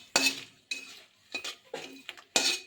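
Panch phoron spices tipped into a pan for tempering, several sharp metallic scrapes and clinks of a spoon against the pan spaced irregularly, close up with no talk.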